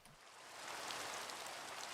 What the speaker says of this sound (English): It was very difficult to add sound for the rain, but we managed to kind of add sound.